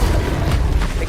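An Incendio fire spell cast in Hogwarts Legacy, a loud, sustained rumbling burst of flame that roars steadily for the whole moment with no pause or talk.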